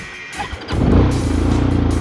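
A small ATV engine in neutral cranks briefly and catches, settling into a loud, steady idle with a rough, throbbing rhythm.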